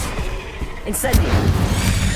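The Incendio fire spell is cast in Hogwarts Legacy, a loud burst and whooshing roar with booming impacts, mixed with game battle noise and a voice.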